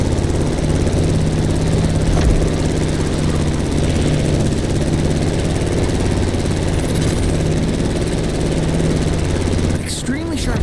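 A propeller plane's engine in the racing game The Crew Motorfest drones steadily and loudly throughout, a continuous buzzing hum with a brief whoosh near the end, under faint background sound.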